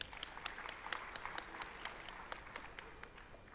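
Scattered audience applause at a formal gathering, fairly faint and distant, with individual claps standing out in an uneven rhythm over a low background hum.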